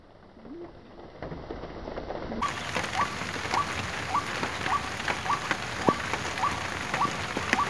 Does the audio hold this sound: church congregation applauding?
no